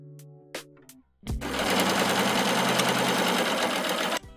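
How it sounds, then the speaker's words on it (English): A sewing machine running a straight stitch on fabric: a few short clicks, then a steady loud whirring run of about three seconds that stops abruptly, close by. "Then just sew a straight stitch."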